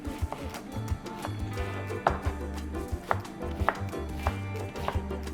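Roughly chopping lentils and spices in a food processor for falafel, with short rhythmic bursts and sharp knocks repeating across the clip, close and moderately loud, no talking.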